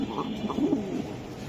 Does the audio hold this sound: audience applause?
no